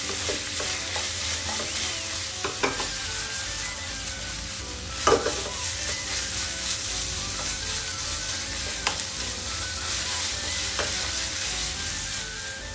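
Ground beef for bolognese sizzles steadily in a hot pan while a spoon stirs and scrapes it, with a few louder clanks against the pan. There is no talking.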